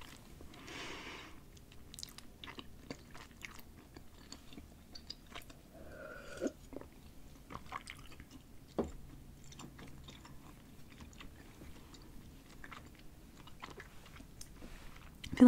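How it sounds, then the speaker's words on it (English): Close, quiet chewing of a chewy, gum-like French candy: soft squishy mouth sounds and occasional small clicks and smacks over a long stretch with no talking. "I feel like it's gum. I have to chew it so long."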